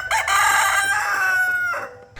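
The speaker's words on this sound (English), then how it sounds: "they've got the roosters that they use for the cockfighting" A fighting cock crows once in a jungle village in Toraja, Sulawesi, a loud, close, drawn-out call lasting about two seconds.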